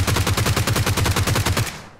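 A G36c rifle in PUBG Mobile fires a fast automatic burst of about fifteen evenly spaced, punchy shots that stop abruptly and are followed by a brief fading tail, with no one talking over it.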